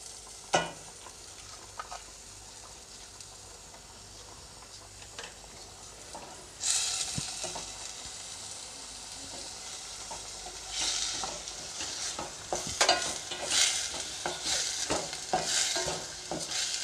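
Beans, carrots and tomato stir-fry in a pan for pasta, a soft ongoing sizzle broken by intermittent spatula stirs and scrapes that grow busier toward the end.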